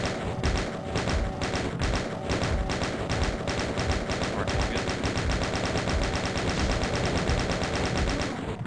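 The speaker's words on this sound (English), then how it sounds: "I'm just going to try to hit him with the chain gun" In Doom, a chain gun fires continuously as a rapid, even burst of loud shots, steady for several seconds and cutting off at the end, with game noise behind it.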